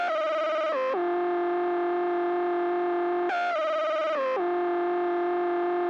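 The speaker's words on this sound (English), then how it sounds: "This final lead pattern is a preset called Nightmare Lead. No effects on here." A loud, buzzy synth lead preset with no effects holds long sustained notes with quick pitch slides between them, repeating a two-part phrase with no other instruments.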